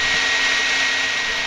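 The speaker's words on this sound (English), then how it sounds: "So I have the dryer going at full blast right now, and it's really heating up those coals." A hair dryer blows at full blast into the coals of a homemade forge being heated for knife-making, a steady, loud broadband whoosh that holds constant for the whole moment with no breaks.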